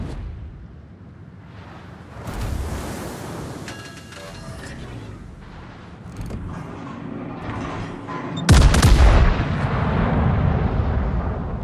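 Naval guns fire at an enemy warship in World of Warships, with heavy booms and rumbling blasts among mechanical clanks and creaks, capped by a loud close salvo near the end.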